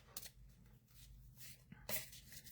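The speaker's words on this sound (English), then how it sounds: "Feels weird shuffling the cards this way." A deck of cards is shuffled by hand in a quiet room, giving soft riffling and flicking bursts that come in irregular spurts, with a sharper flutter near the end.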